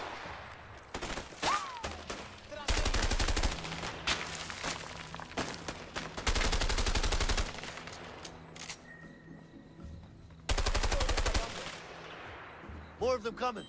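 Rapid bursts of gunfire in the co-op video game A Way Out, several loud sustained volleys separated by short quieter gaps with scattered single shots and brief voices between.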